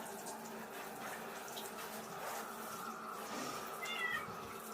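Tap water runs steadily onto a long-haired cat's thick fur during a bath, a close, even splashing wash with a faint brief meow near the end.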